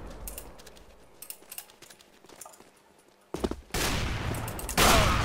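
A single heavy AWP sniper rifle shot fires in Counter-Strike: Global Offensive, a sharp loud blast that cuts in after quieter clicks, footsteps and gear rattles, followed by sustained game noise.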